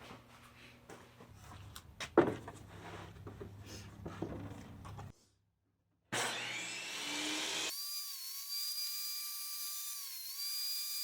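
A high-pitched electric drill whines steadily while drilling magnet holes in wood, with clattering handling noise before a brief pause, then a sustained drilling drone.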